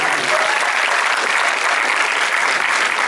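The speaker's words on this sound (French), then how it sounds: "Applaudissez-vous" Steady applause from a cinema audience at a special film screening, dense and even clapping throughout with no pauses.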